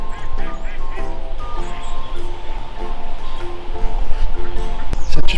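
Many ducks quack in a crowded chorus across a field, overlapping calls close and far with outdoor wind and rustle underneath.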